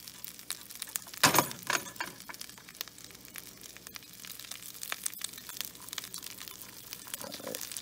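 A raw egg cracked against a surface at home, one sharp crunching crack early on, followed by faint crinkles and small clicks against quiet background.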